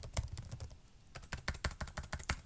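Close, moderately quiet keystrokes on a computer keyboard come in irregular bursts with a short pause near the middle.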